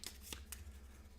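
Cards from a board game's item deck being shuffled up close, a few quick, crisp riffling bursts spaced apart over a low hum, with no talking.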